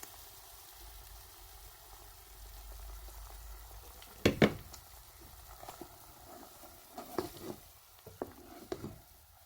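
Garlic, pepper and tomato mixture cooking down in a pot, a faint low bubbling simmer punctuated by a few soft clinks and stirring knocks.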